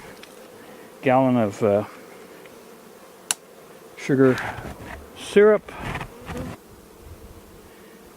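Honeybees buzz around an opened hive during an early spring inspection, a steady near drone beneath a voice talking in short phrases.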